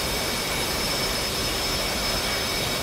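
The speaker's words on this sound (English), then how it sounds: "Oh, the host Hornets appear to be landing first." F/A-18 Hornet jet engines roar steadily during a landing in the DCS flight simulator, a loud continuous whine and rumble with no talk over it.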